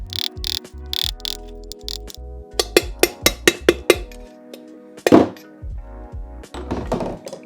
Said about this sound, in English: I think I can just tap that one out with a screwdriver.